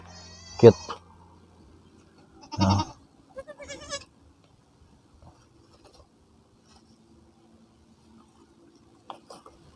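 Goat bleating on a small farm where the animals feed, a loud wavering bleat near the start followed by two more calls, then quiet with faint rustling.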